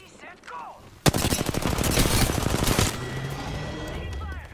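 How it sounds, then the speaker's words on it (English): A sudden burst of rapid automatic gunfire in a shooter game, loud and close, rattling for about two seconds before dropping back to quieter battlefield ambience. "Taking fire!"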